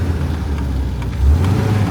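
An MGB sports car under restoration, driven in second gear with a slightly funny clutch, its mid-pitched engine droning steadily from inside the cabin and swelling louder as it accelerates near the end.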